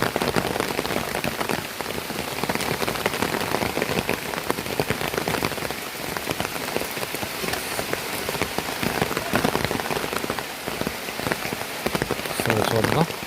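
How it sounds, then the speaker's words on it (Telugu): Heavy rain pours suddenly over a tribal village, a loud unbroken hiss and patter of drops on nearby surfaces, with a faint voice briefly near the end. "అంటే వర్షం మొత్తం సడన్గా వర్షం పట్టుకుంది."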